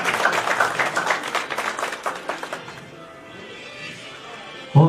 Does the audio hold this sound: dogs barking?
no